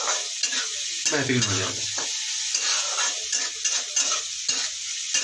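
Chowmein noodles stir-fried over low heat with chowmein masala, a steady sizzle with scraping and stirring throughout, close and fairly loud, with a brief spoken phrase over it.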